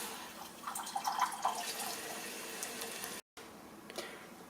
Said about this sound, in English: So we'll fill that halfway up with water, then we will put in the peppers and the rose petals.